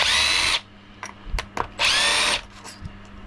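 A power driver backs two bolts out of a chainsaw carburetor on a T540 MK3 saw. Two loud, close whirring bursts are separated by faint clicks and handling noises.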